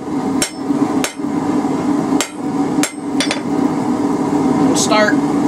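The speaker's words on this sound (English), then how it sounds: "Now once we get a bit more of it flattened back here, we'll use the cross peen" Cross peen hammer blows on hot metal while forging a feather incense burner: five loud, sharp ringing strikes spaced irregularly about a second apart, over a steady workshop hum, ending with a brighter clinking hit.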